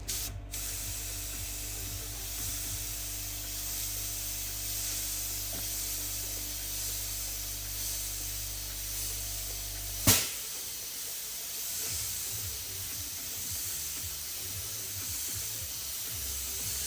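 A fine airbrush sprays paint in a steady, continuous hiss for about ten seconds. A short sharp click follows, and then a quieter hiss continues.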